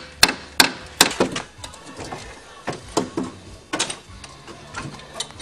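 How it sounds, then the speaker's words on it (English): Metal strut from a Talon's front suspension takes a series of sharp hammer whacks, several loud knocks in quick bursts with short gaps between them and lighter taps in between. "Now give the strut a whack that way."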